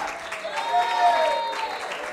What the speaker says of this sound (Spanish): el que le merece una ofrenda de palmas es al Señor Jesucristo